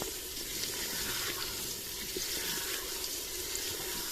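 Chicken fries with garlic, onion and ginger in a pan, giving a dense, continuous, even sizzle that stays steady throughout, close up with no talking.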